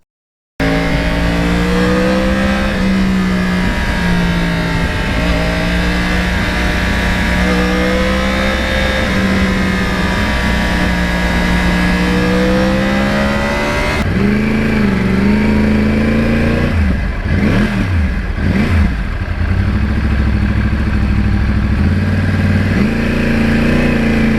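A Yamaha R1 crossplane motorcycle engine drones at steady high revs, then blips sharply up and down in several quick throttle revs before settling into a lower idle.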